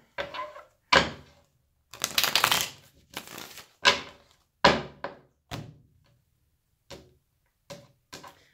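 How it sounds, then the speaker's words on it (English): Sharp riffling and slapping of tarot cards being shuffled in separate bursts, each a quick flutter ending in a tap, with short pauses between. "One more shuffle, and then I'll cut."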